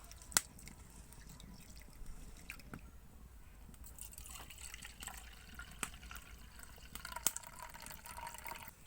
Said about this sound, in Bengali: ডালটা ভালো করে ধুয়ে নেব।